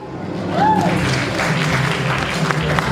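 Audience applause at the grand final of a university beauty pageant, a steady wash of many hands clapping that swells in and holds, with a brief whistle near the start.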